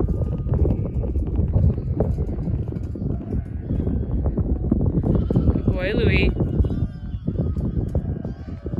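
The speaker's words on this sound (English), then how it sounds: "we're bringing the lambs in for the night" Sheep and lambs bleat in short bursts while being brought in for the night by a working Border Collie, with a steady background of shuffling and hoof noise and people talking over the flock.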